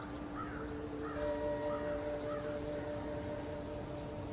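A crow caws several times in short, repeated calls at a distance, over a steady droning background with sustained tonal hums.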